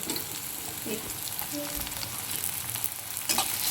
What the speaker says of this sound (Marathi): आता आपण लगेच हे टॅमॅटो घालून घेऊया